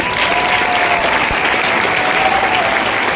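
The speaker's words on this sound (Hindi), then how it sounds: "सबके एक जोरदार ताली हो जाए" Steady, dense applause from a seated audience at a business plan presentation, honouring diamond leaders; a continuous wash of many hands clapping together for several seconds with no break.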